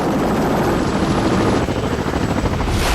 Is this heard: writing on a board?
no